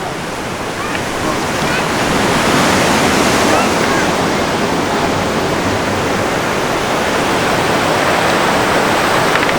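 Sea waves wash onto a quiet beach below a cliff beside rocks, a loud, dense, steady roar of surf with no distinct breaks, close and unbroken.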